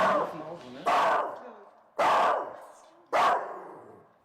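A stray dog barks three times in loud, sharp, evenly spaced bursts inside the Davidwache police station on the Reeperbahn, each bark fading with a short echoing tail.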